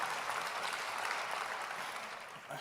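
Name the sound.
audience applause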